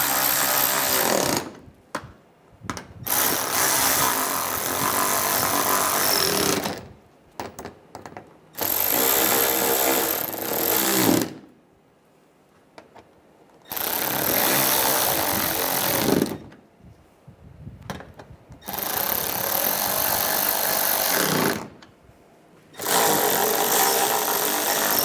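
A power tool runs in long loud bursts with short pauses between them, driving down the bolts on the water pump of a 2006-2009 Mercedes E350 engine.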